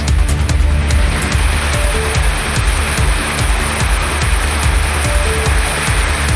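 Moderate evening rain falls across the Kovilpatti area, a dense, loud and steady patter with close drips ticking through the wash and no voices.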